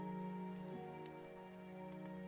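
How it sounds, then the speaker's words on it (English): Rain ambience track playing quietly at a steady level, a soft continuous patter under sustained music tones, with no talking. "we got some rain sounds and ambience going too"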